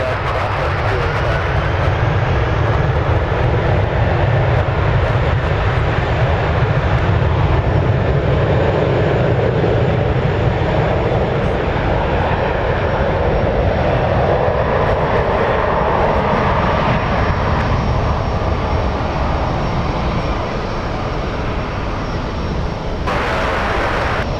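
A jet taxis at San Francisco International Airport with a loud, continuous engine roar. The pitch and intensity shift slowly while the aircraft moves along the taxiway.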